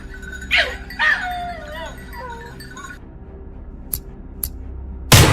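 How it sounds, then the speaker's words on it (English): Hunting dogs bark in a few sharp, excited bursts in an open field during a wild boar drive, with whimpers and yips between them and a steady hum underneath. "The barking echoed, sharp and frantic, filling the entire field as they surrounded the target from all sides."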